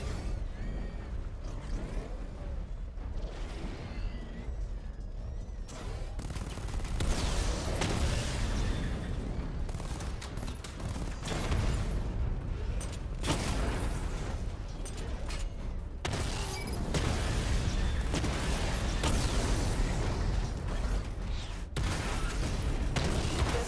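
A Batmobile missile barrage in Batman Arkham Knight during a diagnostic test: heavy, rumbling booms and bursting blasts follow one another closely for over twenty seconds, loud and dense, with no one talking.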